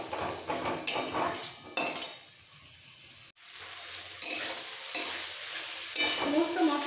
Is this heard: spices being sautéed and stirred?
yes